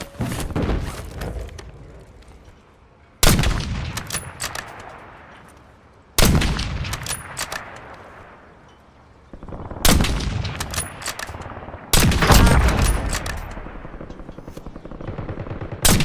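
Heavy bursts of automatic gunfire in a video game, loud and close, arriving as four or five sharp volleys every few seconds, each cracking hard and then trailing off into rumbling echoes before the next.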